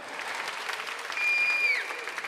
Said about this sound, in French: Merci beaucoup, bravo, on peut les applaudir.